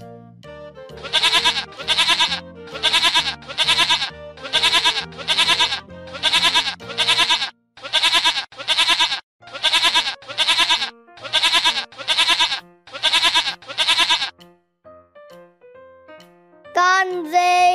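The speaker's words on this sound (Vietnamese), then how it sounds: "Đây là con dê." A goat bleats over and over in quick paired cries, loud and close, in a steady rhythm of short nasal calls with brief gaps, ending with a different bright sound.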